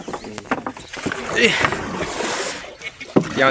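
A rowboat moves across a village pond, with water splashing and knocking under lively voices talking and shouting close by.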